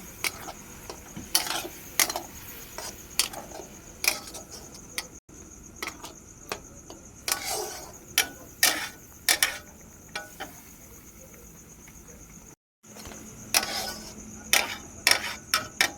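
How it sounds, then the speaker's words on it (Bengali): A spoon stirs Kashmiri red chili powder into masala in a pan, giving sharp repeated metallic scrapes and clicks in an irregular rhythm with brief pauses, close and fairly clear. "ভালোভাবে নেড়ে নেব"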